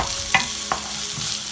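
Ingredients for Vietnamese pork sauté in a pan, a close, steady frying hiss broken by two sharp utensil clinks against the pan.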